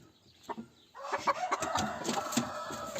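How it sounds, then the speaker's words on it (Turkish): A chicken clucks softly near a farm garage, a few short clucks followed by a run of busy, chattering fowl sounds at low volume. "Tavuk da kuzlamaya geçmiş buraya."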